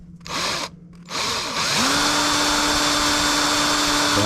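A power drill runs in two brief spurts, then settles into a long, steady whirring drone, boring a hole for a homemade underspin fishing lure.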